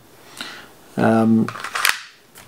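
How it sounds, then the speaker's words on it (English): A CO2 airsoft pistol has a magazine pushed in and its slide racked, giving sharp metallic clicks and a snap near the end. A brief voiced sound sits between the clicks, all close and loud. "jamming a new mag in and clicking the slide back"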